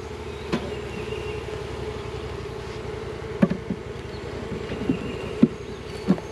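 Honey bees hum in a dense, steady drone from the crowded center of an opened hive, close and continuous, with a few brief knocks and clicks from handling the frames standing out above the buzz.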